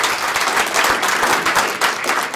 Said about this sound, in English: So how about a round of applause for Captain Sandoval?